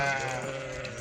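One sheep gives a single clear, close bleat, quavering and fading slowly, in a pen where a large flock of Balbas-type sheep is kept for sale.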